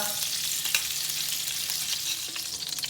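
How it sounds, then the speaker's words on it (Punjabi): Desi ghee sizzles and fries steadily in a kadhai as a tempering for rice, a close, continuous crackling hiss with a few faint clinks and no talking. "ਹੁਣ ਆਪਾਂ ਦੇਸੀ ਘਿਓ ਦਾ ਲਾਵਾਂਗੇ ਚੌਲਾਂ ਨੂੰ ਤੜਕਾ"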